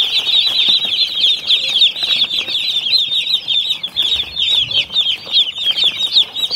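Chickens at a poultry farm with around 400 chicks cluck and flap their wings, producing a dense, continuous high-pitched chorus of chirps and rustling at steady moderate loudness with no talking.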